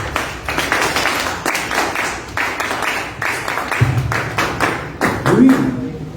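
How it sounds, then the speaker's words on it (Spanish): Scattered applause from an audience at a talk on reforming the prosecutor's office and judiciary, a few irregular claps and taps spread over several seconds rather than a sustained ovation, with some background noise. "Un aplauso."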